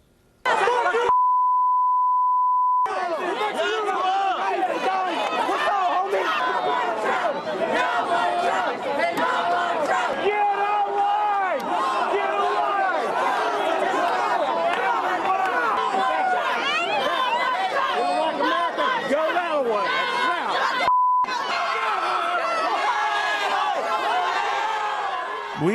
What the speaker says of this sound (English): We beeped out a lot of the nasty words